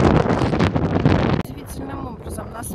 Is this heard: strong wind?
yes